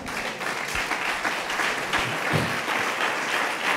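A church congregation applauds together, a steady wash of clapping sustained for several seconds at moderate distance, with faint voices underneath.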